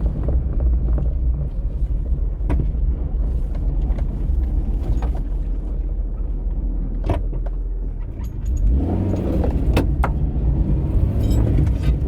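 A Suzuki Carry minivan rolls along on a drive, its engine rumbling steadily from inside the cab while small rattles and clicks from the body break in throughout.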